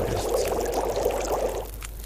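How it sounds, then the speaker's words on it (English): Steady bubbling, pouring liquid texture as water boils over a fire in The Long Dark, a continuous moderate wash of watery sound that thins out near the end. "Boil that water."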